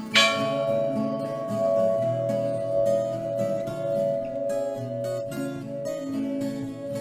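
A small bell in the old Capela da Penha chapel rings with a bright struck onset, its sustained resonant tones ringing out and decaying over several seconds, fairly close and alone.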